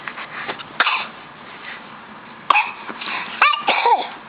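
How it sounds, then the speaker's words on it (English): A few short coughs and throat-clearing sounds from a small child, close to the microphone, separated by quiet pauses with some faint fussing. "Cough, cough, cough."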